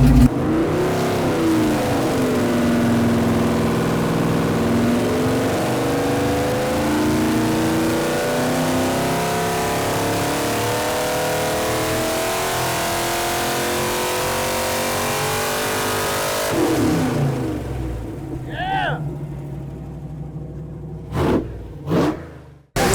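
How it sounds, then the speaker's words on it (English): A carburetor car engine revs in an auto shop, a loud sustained roar with rising and falling pitch for about sixteen seconds, then it drops away and a few sharp clanks follow. "I'm adjusting the idle in the air to see if we can get a little more power coming out of this carburetor to the engine."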